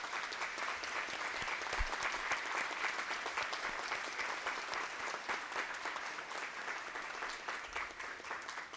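An audience claps steadily at a formal ceremony granting honorary Campinas citizenship, a dense, even wash of applause from many hands that runs unbroken throughout with no speech over it.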